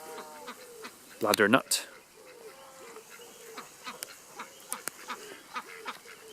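Ducks quack in a short loud burst near the start, with faint calls continuing around a forest garden at dusk while a person talks nearby.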